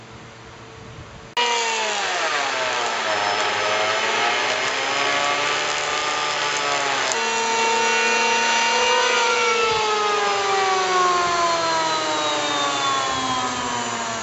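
A chainsaw cuts through a log being made into a table, the engine roaring loud and close with a sustained, slightly wavering pitch as the blade bites into the wood for over ten seconds, with no talk.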